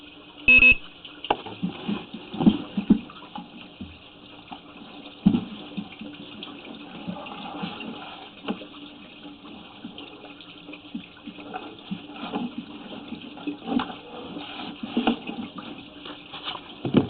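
Water running from a tap into a basement drain during a sewer pipe inspection, a continuous thin flow with scattered knocks and splashes, heard at a distance and fairly faint.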